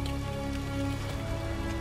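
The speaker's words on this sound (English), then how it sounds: "Oh, I remember this heavy rain." Heavy rain in the video game Detroit: Become Human patters steadily and close, a dense hiss of drops with faint tonal hum underneath.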